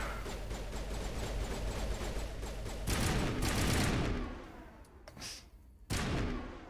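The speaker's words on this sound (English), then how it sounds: "So you have to really keep it down to burst fire," Controlled bursts from an overheating gun in the video game Mass Effect Legendary Edition, several sharp volleys over a steady rumbling background, loudest midway, with a final burst near the end.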